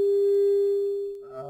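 Steady sine-wave test tone played through a repaired Onkyo P-304 preamplifier, a pure loud hum with faint overtones that fades slightly before a brief muddled shift near the end.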